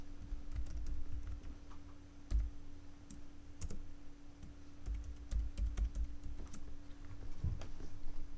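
Steady typing on a computer keyboard, soft and close, continues for several seconds as scattered key taps and clicks over a faint constant hum.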